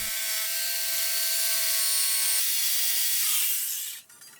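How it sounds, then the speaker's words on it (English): A jigsaw making small cuts in wood, a loud steady high buzzing whine that shifts pitch partway through, then winds down and stops near the end. "I had to dig out the jigsaw to make these cuts"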